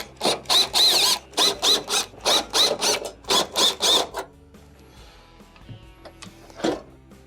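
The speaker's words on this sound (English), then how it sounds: "also removing all the screws" Screws being removed around the perimeter of a Samsung stove's top panel with a ratcheting tool, heard as a close run of about a dozen rapid, evenly spaced clicking bursts that stop abruptly, followed by quieter handling noises and one last sharp click.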